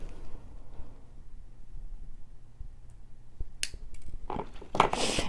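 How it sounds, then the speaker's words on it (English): Cutters snip the wire tail off a bangle bracelet, heard as a couple of sharp, close clicks near the end over a quiet, faintly humming background. "I'll just snip that little tail off"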